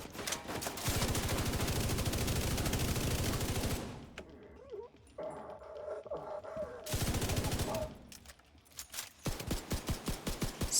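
Rapid automatic gunfire hammers a Descent raid boss in a video game, with a long sustained burst, a quieter gap, a shorter volley, then sharp, evenly spaced shots close and loud.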